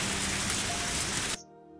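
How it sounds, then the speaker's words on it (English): Rain falling in the video game Higurashi, a loud, dense, steady hiss of rainfall that cuts off abruptly, leaving only a faint low background hum. "unfortunately rain doesn't seem to want to stop"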